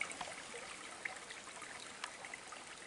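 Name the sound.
small waterfalls trickling in a stream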